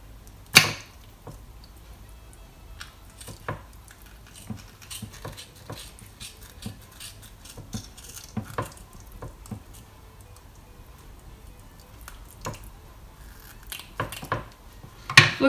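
Knife cutting around the fins of a raw lemon sole on a board, scattered crisp slicing and scraping clicks spread unevenly over a quiet background, with a few louder taps near the start and end.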